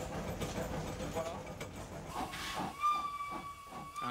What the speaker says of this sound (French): Et sifflet.